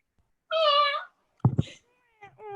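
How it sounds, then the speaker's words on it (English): A cat named Cleo gives one clear, drawn-out meow, close and distinct against silence, followed by a few faint, brief knocks and softer sounds. "Cleo meows."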